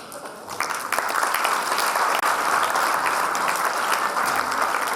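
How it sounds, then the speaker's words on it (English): A Model United Nations closing ceremony audience breaks into loud, sustained applause from a large hall crowd, the dense clapping holding steady throughout with no speech over it. "please put your hands together in tremendous applause"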